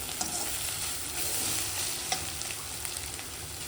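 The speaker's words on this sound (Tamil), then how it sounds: "இன்னும் நல்லா வதங்கட்டும்" Eggs sautéing in a pan for egg rice give a steady, close sizzle, with stirring scrapes and small pops breaking through now and then.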